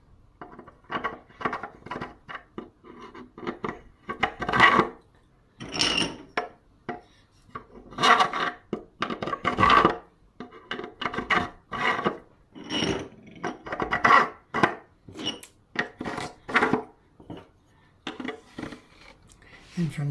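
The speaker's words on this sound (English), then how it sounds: "So now I'm going to put these through the holes." Carriage bolts being pushed through the holes of a wooden ukulele gluing clamp, with irregular close scraping, rubbing and knocking of metal against wood throughout.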